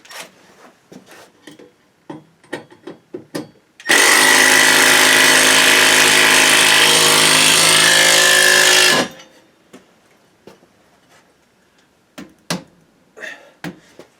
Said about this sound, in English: I gotta get the Milwaukee impact driver.